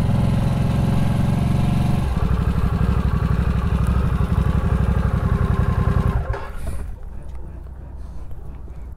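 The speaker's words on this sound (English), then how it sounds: "Harley-Davidson Revolution Engine" A 2022 Harley-Davidson Nightster's 975 Revolution engine runs loud and close with a deep, steady throbbing rumble that thins out near the end.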